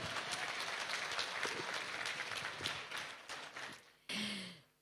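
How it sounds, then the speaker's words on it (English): An audience claps at the Oppo Reno 2 India launch event: a steady, fairly quiet wash of applause that gradually thins before cutting off abruptly. "A big round of applause,"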